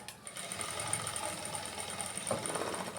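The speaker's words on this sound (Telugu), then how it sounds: "స్టిఫ్గా ఉండడం కోసం అనుగుడు కుట్టు వేస్తున్నానండి" A sewing machine running a stiffening stitch along the back panel of a garment, giving a steady mechanical whir with a high whine throughout, close by and without speech.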